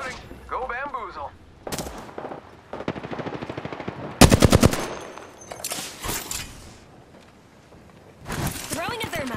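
Bursts of automatic gunfire in the Apex Legends battle royale game, with rapid rhythmic volleys rattling close and loud, broken by pauses and game voice callouts between the shots.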